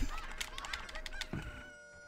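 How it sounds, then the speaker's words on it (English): Cuccos cluck and squawk in The Legend of Zelda: Ocarina of Time, a quick, busy flurry of game-style chicken calls heard close and alone. "Attack of the chickens."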